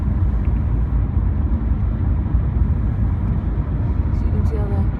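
Steady road rumble heard from inside a car driving through Guangzhou toward the airport: a constant, loud engine and tire drone with no breaks, and no voices over it.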